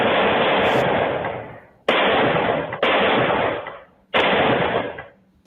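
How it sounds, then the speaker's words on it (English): Bursts of rapid automatic gunfire caught on a doorbell camera early in the morning come as four long harsh volleys, each loud and clipped, trailing off before the next begins, with no voices heard. "doorbell camera captured the sound of gunfire early Thursday morning"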